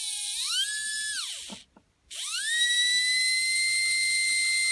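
Small repaired 12mm inrunner electric motor with freshly set epoxy revving to high speed, a loud piercing whine that sweeps up, briefly cuts out, then spins back up and holds a steady high pitch, with no talk.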